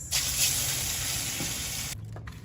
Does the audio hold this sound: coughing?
no